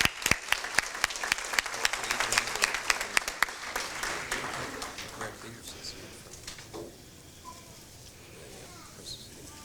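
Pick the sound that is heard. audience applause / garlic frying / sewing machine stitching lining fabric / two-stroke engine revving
audience applause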